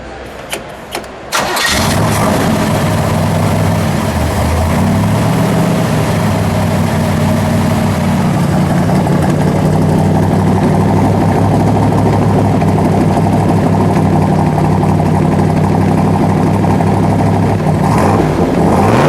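A silver 1967 Chevrolet Corvette coupe with an L88 427 V8 cranks briefly, fires up and settles into a loud, steady, rumbling idle that runs unbroken for the rest of the clip.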